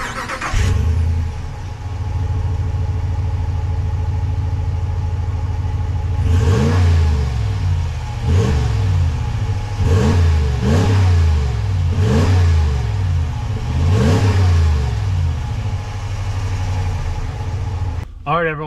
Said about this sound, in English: let's give you guys an exhaust test